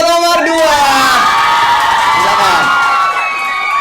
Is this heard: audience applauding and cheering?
yes